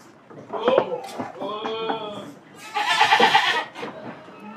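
Boer goats bleat loudly nearby, several drawn-out wavering calls one after another, with some knocking and rustling in between.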